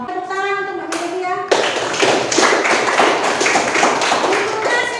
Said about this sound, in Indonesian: Tepuk tangan untuk Mbak Melivia.